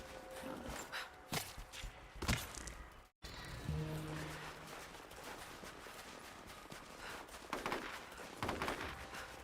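Scattered gunshots crack out in short bursts in the video game Tomb Raider, some sharp and close, others duller, with a brief silent gap partway through.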